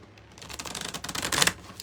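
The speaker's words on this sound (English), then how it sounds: "I'm going to shuffle some cards for the collective." A deck of playing cards being shuffled, a brisk riffling patter that builds over under two seconds, close and fairly loud with no talking.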